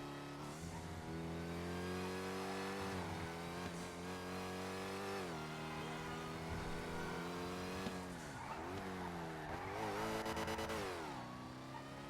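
Car engine revving hard in third gear in a NoPixel GTA roleplay driving game, a loud, whiny, sustained engine note that rises and dips repeatedly as the revs change, with some tire squeal near the end; no talking.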